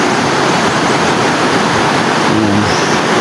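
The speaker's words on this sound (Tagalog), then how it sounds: "Yan yung ilog sa baba." River flowing below a hiking trail near falls in Alegria, Surigao del Norte, a loud, dense, continuous rushing roar without breaks.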